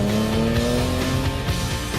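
A Dinan-tuned BMW 335i runs hard on a race track, its exhaust giving a loud, close, sustained engine drone with shifting tonal harmonics and a light tire squeal, no voices over it.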